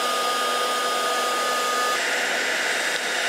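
A heat gun used as a paint stripper blows steadily on the housing of a Weber DCOE carburetor, making a constant close airy hiss and hum with a slight shift in tone partway through.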